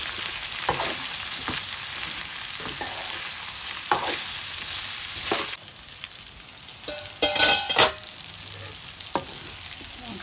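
Brinjal (vankaya) fry being stirred in a pan after salt is added, with a steady close sizzle broken by irregular scraping strokes of the spoon and a brief clatter near the end.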